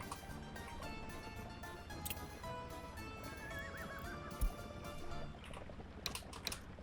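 A horse whinnies amid clip-clopping hooves and busy game-like background sounds in the video game Workers & Resources, with a few keyboard-like taps, all fairly quiet.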